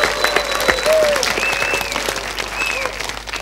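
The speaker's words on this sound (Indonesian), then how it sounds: "mari kita berikan tepuk tangan untuk mereka berempat sekali lagi" A studio audience at a televised music quiz show, held for TVRI's anniversary, claps in dense, steady applause that fills the whole stretch, with a few faint whistle-like tones rising above it.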